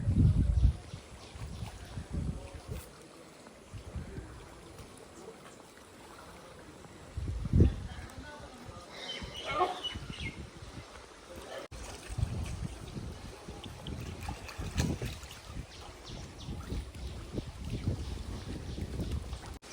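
Swollen, fast-flowing Narmada river in flood at a ghat rushes with continuous turbulent water noise, buffeted by gusts of wind on the microphone and uneven low thumps throughout.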